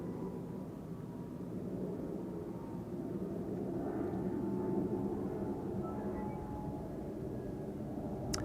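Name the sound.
airliner approaching Schiphol runway 18R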